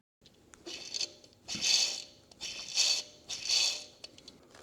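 A worn belt tensioner pulley from a 2013 Jeep Patriot Limited 4WD spun by hand, giving three or four close whirring bursts with a faint rattling, ratchety grind, each rising and fading, alone without talk.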